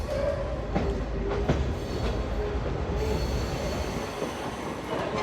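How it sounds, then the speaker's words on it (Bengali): A cattle and mango special train rolls into Kamalapur railway station in Dhaka, its wheels squealing on the rails with a steady rumble and occasional clanks, loud and close throughout. "ক্যাটেল প্লাস ম্যাঙ্গো স্পেশাল ট্রেনটি এই মাত্র কমলাপুর রেলওয়ে স্টেশন প্রবেশ করলো"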